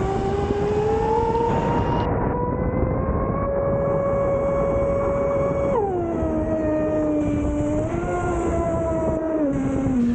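A Hydra X8S RC boat with a Castle 1650kv motor on 6S runs at full throttle, giving a loud sustained electric whine that holds steady, then drops in pitch twice as it slows, with water rush beneath.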